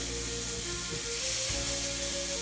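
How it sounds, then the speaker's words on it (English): Steady bright sizzling hiss of filet mignon searing in a hot pot, continuous and close, with faint tonal hum underneath and no talking. "You hear the sizzle?"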